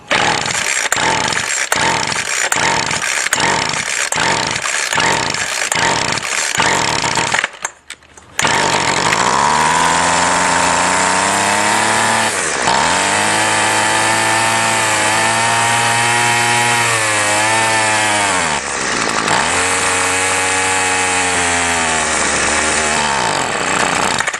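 A two-stroke weed eater string trimmer, primed and run without choke during repair, sputters in rapid pulses, briefly cuts out, then roars into a loud continuous run that rises and falls in pitch as the throttle varies.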